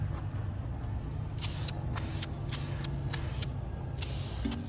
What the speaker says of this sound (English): there's overspray going everywhere